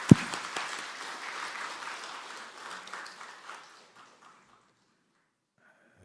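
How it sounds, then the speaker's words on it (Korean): At a Sunday church service, the congregation applauds to welcome newcomers, opening with a sharp clap, then steady clapping that thins out and fades to near silence by about four seconds. "저 뒤에 우리 박수로 환영하시겠습니다"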